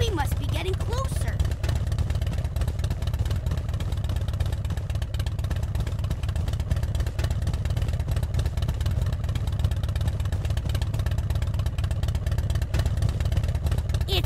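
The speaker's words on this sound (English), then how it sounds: "It's a motorcycle!" Motorcycle engine sound effect from the Cyberchase sound-quest science game, a steady, continuous low engine drone that holds at the same level throughout.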